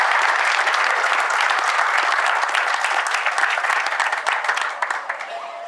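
An audience at an evening event at the Sociedad Rural de Virasoro applauds to welcome a guest economist, with dense, steady clapping that fades slightly toward the end.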